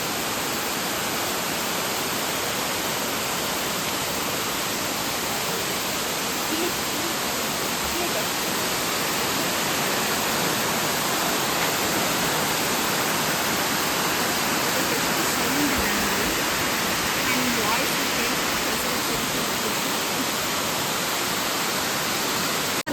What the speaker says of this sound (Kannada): ಸೊ ಇಲ್ಲಿಂದಲೇ ನೋಡ್ಬೇಕು ಫಾಲ್ಸ್ನ